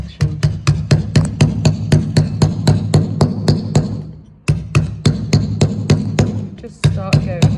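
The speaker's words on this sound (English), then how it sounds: "So I'll try this chisel for the smaller" Hammer striking a chisel into limestone while carving an owl sculpture, loud rapid regular blows close by, a brief pause midway, then the steady pounding resumes.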